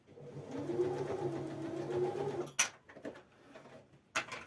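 A home sewing machine stitches a seam with a zipper foot in a steady, low whirring run for a couple of seconds, then stops, leaving a few sharp clicks and handling noises.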